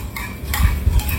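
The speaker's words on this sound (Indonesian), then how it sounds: "1 sendok makan SKM. Ini diaduk aja." A spoon stirs a tablespoon of sweetened condensed milk into cookie batter in a bowl, making soft scraping and clinking sounds with a few low bumps, close by, with no talking.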